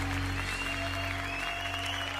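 Worshippers at a Spanish-language church family gathering clap in praise to Jesus, a brief, even wash of applause blended with sustained musical tones from worship music.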